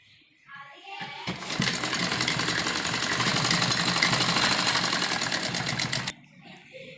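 A sewing machine stitches the waist and flared bottom of a V-shape umbrella frock together with a half-inch seam. Soft noise leads into a loud, steady run of rapid needle clatter lasting about five seconds, which then stops abruptly.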